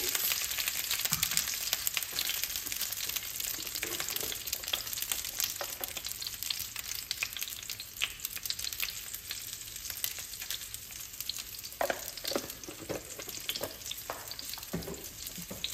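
Stuffed brinjal (guthhi vankaya) sizzles steadily in a pan as it half-fries with turmeric and salt, with occasional scraping stirs cutting through the continuous crackling frying noise, close up and with no voices.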